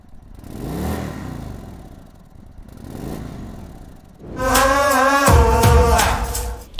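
A motorcycle fitted with a Dr. Jekill & Mr. Hyde switchable exhaust idles and revs softly, then turns sharply louder and rougher near the end, with a deeper, fuller rumble up close.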